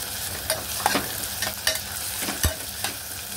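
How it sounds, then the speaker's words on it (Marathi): Close sizzling of onion frying for mushroom masala, with periodic scraping knocks of a spatula stirring the pan, a steady crackle throughout. "आता याच्यामध्ये आपण 1 कांदा टाकूया आणि चांगलं मिक्स करून घेऊया"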